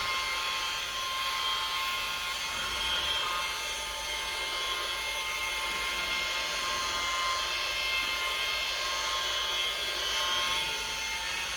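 A rotary polisher fitted with a cutting pad works at low speed with light pressure on a faded car headlight, giving a steady, even whine that runs unbroken and alone at moderate loudness.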